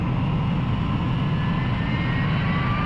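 Jet aircraft engine roaring steadily at takeoff in the Ace Combat video game, a continuous loud low rumble with a faint rising whine, alone with no talk.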